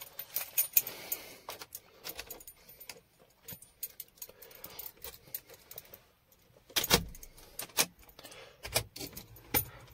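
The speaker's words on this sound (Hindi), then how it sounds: "तो चलो हम इसमें चाबी लगाते हैं" Car keys jangle and clink as the key goes into the ignition of a 2019 Mahindra Bolero ZLX Power Plus, with soft scattered rattles and then a louder burst of metallic jingling near the end.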